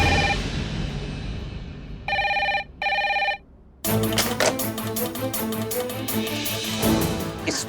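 An incoming call rings on a telephone: two loud, steady electronic bursts separated by a short gap, then the ring cuts off. Busy music swells in right after.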